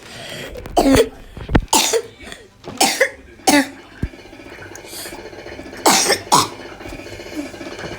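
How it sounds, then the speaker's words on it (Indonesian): Several sharp, harsh coughs come in scattered bursts, close up, over a quiet background hum. "gua lagi batuk"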